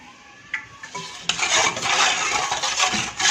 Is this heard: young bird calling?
no